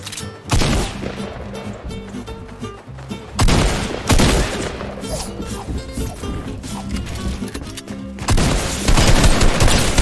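A close-range Fortnite gunfight with loud bursts of gunfire, several heavy shotgun-like blasts and rapid volleys separated by brief lulls, dense and aggressive throughout.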